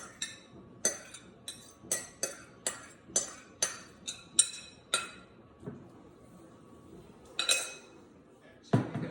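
A spoon scrapes and clinks against a serving dish in an even rhythm, about a dozen sharp close taps as beet, apple and carrot salad is moved across, then a pause and a couple of final knocks.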